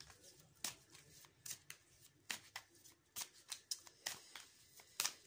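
Tarot cards shuffled and handled while one is drawn for a psychic reading: a rapid series of crisp papery flicks and snaps, close and fairly quiet, with no talking.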